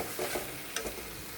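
Spice paste with yogurt and cashew paste frying in oil in a pan for dhokar dalna, a steady faint sizzle with two or three brief scraping stirs, heard alone.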